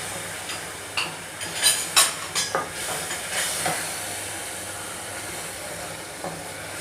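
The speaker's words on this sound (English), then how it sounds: "The masala frying is almost done." Masala with ginger paste fries in oil, a soft steady sizzle close by, broken early on by a cluster of sharp scraping and clinking stirring strokes before settling back to a quiet hiss.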